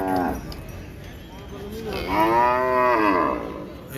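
Cattle lowing at a weekly bull and oxen market, two drawn-out moos close by, the second longer and rising, over faint crowd murmur.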